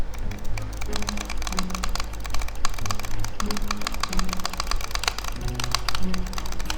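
Rapid computer mouse clicking during a digging game, a dense run of sharp, quick clicks and taps under a steady low hum and a voice talking over it.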